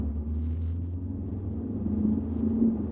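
A Land Rover Discovery Sport with the TD4 diesel engine pulling away from a near standstill onto a road, a steady low engine drone with road rumble building slightly as it gains speed.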